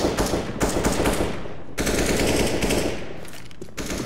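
Sustained automatic gunfire from a CS:GO match, rifle bursts fired through a wall, loud and close with short pauses between volleys.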